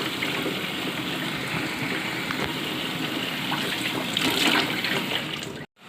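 Water runs steadily from a kitchen tap while mugs are washed, a close, continuous gushing splash that swells briefly near the end before cutting off abruptly.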